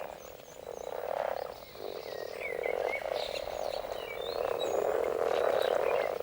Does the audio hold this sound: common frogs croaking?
yes